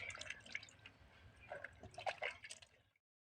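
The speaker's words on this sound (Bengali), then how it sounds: "আমি জলে সিমগুলো ভালো করে ধুয়ে নেবো" Green beans are washed by hand in a bowl of water, giving soft drips, splashes and liquid gurgles at close range. The clip is short, with no talk.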